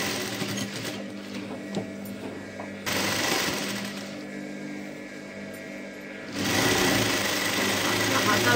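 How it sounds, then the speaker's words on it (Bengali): A sewing machine runs steadily as it stitches the side seams of a kurti, a close, loud mechanical whir that stops and restarts in bursts, dropping to quieter motor hum in between. "প্রত্যেকটা সাইডের লগে লগেও আমি একটা আরও এক্সট্রা সেলাই দিয়ে দেবো"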